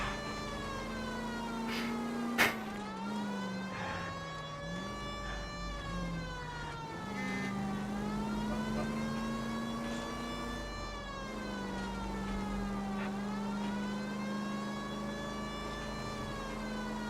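A wailing ambulance siren from the video game L.A. Noire, sweeping steadily up and down in long rising and falling cycles, loud and continuous with one sharp click near the start and no talking.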